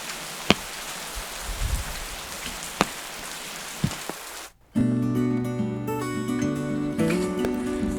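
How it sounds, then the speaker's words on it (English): Steady rain patters across a surface with occasional heavier drips, then gives way abruptly to a louder, sustained tonal sound for the rest of the clip. "but there was too much rain"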